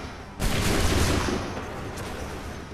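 A musket volley in Assassin's Creed III erupts suddenly, a loud burst of overlapping gunfire that rolls off into a lingering rumble, with a fainter shot after.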